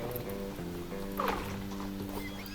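Horse hooves clip-clop steadily with a short neigh in a video game, layered over a droning musical backdrop with synthetic game-like tones.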